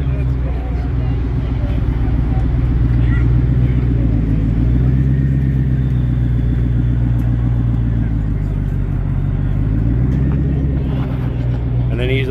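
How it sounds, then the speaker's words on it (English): A Ford GT supercar rolling in at a car show, its engine a loud, steady low rumble with deep harmonic drone that dips and rises slightly as it moves, heard close throughout, with people talking over it. "Ford GT."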